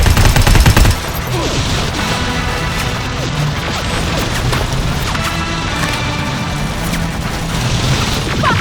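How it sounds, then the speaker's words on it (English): Heavy, sustained gunfire in the game Terminator Resistance: Annihilation Line rages continuously with dense bursts, crashes and booms, loud and close throughout. "Suppressive fire!"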